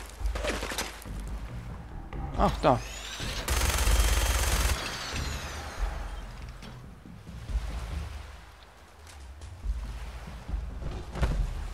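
Gunfire in Fallout 4, a run of loud bursts with a dense sustained volley in the middle and scattered shots after, while someone briefly speaks.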